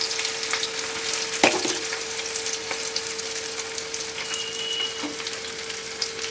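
Onion dropped into hot oil in a home kitchen, where fenugreek seeds had been tempered, setting off a steady close sizzle and crackle of frying with a sharp clatter near the start and occasional stirring scrapes.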